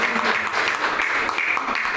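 A brief burst of audience applause at an indoor insurance table-talk gathering, dense clapping at moderate volume that fills the short moment.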